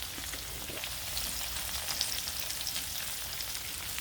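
Halved green chillies fry in oil with papaya and potato, a dense steady sizzling crackle filling the pan up close, continuous and even with no speech.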